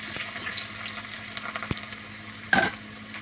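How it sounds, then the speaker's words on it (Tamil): Small shallots frying in oil as a tempering for a village-style lentil curry, a steady close sizzle and crackle with one brief sharper spatter burst near the end, no talk. "இப்போ இந்த சின்ன வெங்காயம் கருக தாளிஞ்சு வரணும்."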